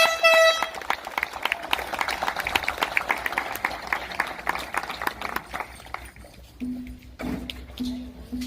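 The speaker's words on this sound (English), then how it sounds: "Let's give them a big round of applause." Applause for a graduating 8th grade class at an outdoor ceremony, clapping and cheering lasting several seconds while car horns honk in bursts, then the clapping thins out and a longer horn blast follows.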